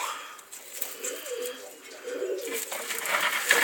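Bob Coke pigeons coo in a breeding loft, soft, low, repeated calls at close range over a faint background hiss.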